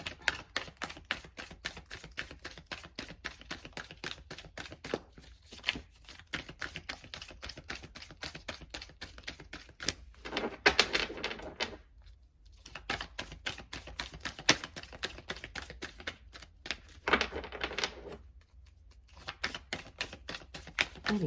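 Oracle cards being drawn and shuffled, a steady run of rapid dry taps and flicks with brief pauses, close and fairly quiet, with no talking.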